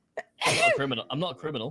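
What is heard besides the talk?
sneeze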